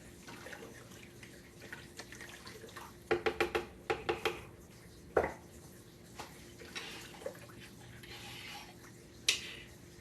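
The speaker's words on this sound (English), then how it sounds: "Get that stirred up." A spoon stirs a fall preserving mixture in a pot, making several quick clusters of metallic clinks and taps over a quiet kitchen hum, with a few isolated knocks afterward.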